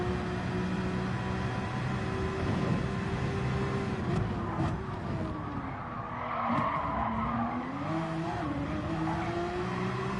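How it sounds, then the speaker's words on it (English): Race car in Gran Turismo 7 at Laguna Seca with a loud continuous engine drone that shifts pitch through gear changes, while tires squeal and skid steadily through the corners. "Oh, he's shifting, he's revving second right through there."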